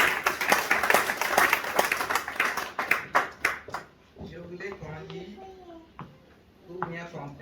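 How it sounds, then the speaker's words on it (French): Congregation clapping in a church service, a dense burst of many hands for about four seconds that then thins out, giving way to a few scattered claps under talk and some tonal sound. "Acclamons la parole."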